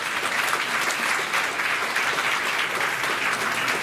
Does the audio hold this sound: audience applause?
yes